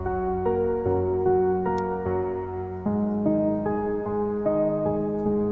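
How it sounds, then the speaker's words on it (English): A soft, light piano arpeggiates pop ballad chords in FL Studio, its notes rising and falling in a steady, gentle pattern, clear and alone with no voices. "Next, take those long chords and arpeggiate them."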